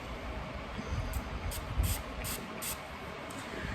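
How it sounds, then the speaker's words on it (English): Several quick, airy spritzes from a makeup setting spray bottle in an uneven rhythm, close and fairly soft over a low background hum. "I'm gonna spritz it with my setting spray."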